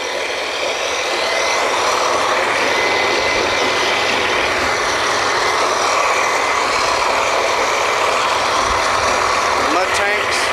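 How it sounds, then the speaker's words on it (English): A mud pump on a 2011 kelly drilling rig runs with a loud, steady mechanical roar that never lets up. No one speaks over it. "Here's one of the mud pumps and the backup pump."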